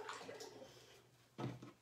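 Water gurgles down the drain plug of a paper-marbling tank, starting as a soft, low trickle and swelling into a louder burst of glugging gurgle near the end of the short take.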